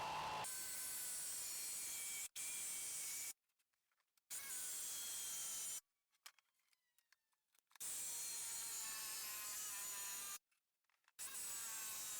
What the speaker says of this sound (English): So I'm going to cut that with the jigsaw